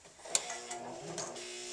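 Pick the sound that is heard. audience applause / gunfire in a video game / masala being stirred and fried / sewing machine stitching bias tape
sewing machine stitching bias tape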